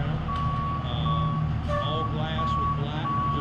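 A tow truck being moved around a car dealership building site sounds a steady series of evenly spaced reversing beeps, moderately distant, with a person talking over it.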